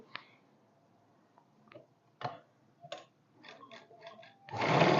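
A sewing machine stitching a kurti plays in short bursts and scattered clicks, with a longer, louder run of stitching at the very end.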